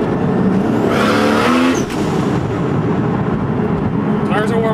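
Toyota Supra accelerating hard in third gear, a loud close engine note rising steadily in pitch with tire noise, sustained throughout, with a brief dip partway before the revs climb again.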